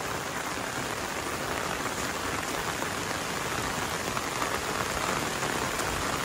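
Steady rain pours down on a muddy road, a dense, even hiss of drops with no letup and no voices, filling the whole stretch at moderate loudness.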